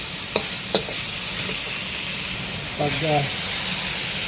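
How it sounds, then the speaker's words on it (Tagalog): Pancit canton with chicken liver is stirred in a hot frying pan, giving a steady sizzle and hiss with a few sharp clinks of the utensil against the pan, while someone speaks briefly. "halo-haloin natin yung lahat"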